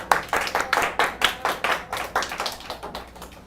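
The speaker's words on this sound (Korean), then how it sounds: "이예용 형제 잠깐 일어나면 우리 박수로 환영하겠습니다" A church congregation claps to welcome a first-time visitor, a quick run of close, evenly spaced hand claps that stay moderately loud and steady before easing slightly, with no voices over them.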